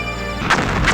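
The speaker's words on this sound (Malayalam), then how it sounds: "നീ എന്തിനാടാ ഈ കതിനാ വെടി കെട്ടിച്ചിരിക്കണം?" Kathina, a ceremonial firecracker, goes off in a single loud, booming blast that cuts through a steady background hum.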